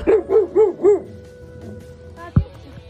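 A dog barking in the city of Pithoragarh: four evenly spaced, rising-and-falling barks close by, followed by a soft thud and quiet room noise.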